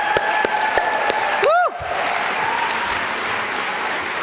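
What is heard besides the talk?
audience applause for opening drum and dance performers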